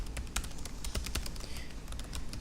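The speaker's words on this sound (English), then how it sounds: "So you're just going to type this information in." Rapid tapping on a computer keyboard, a quiet run of uneven clicks and keystrokes close by with no voices.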